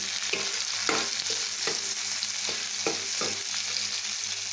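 Tomato stirred into eggplant frying in a pan with egg, a steady close sizzle broken by several sharp scrapes and knocks of a spoon against the pan, no talking.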